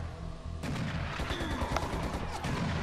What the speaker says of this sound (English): All you do is just go to the side and dodge his machine guns.